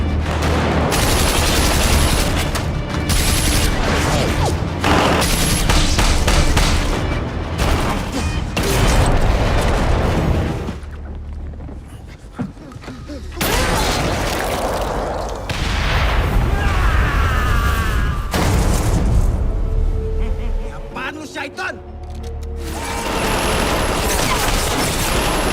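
Heavy gunfire from an assassin's attack on a gang of thugs, loud and dense with overlapping shots, booms and mechanical clatter, easing briefly before resuming in a chaotic barrage.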